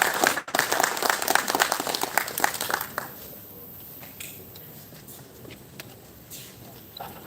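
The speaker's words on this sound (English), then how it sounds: "Once again, a big round of applause for him." Audience clapping at a tribal engineers' society general meeting after a speech, a lively burst of applause for about three seconds that quickly thins to scattered claps and room noise.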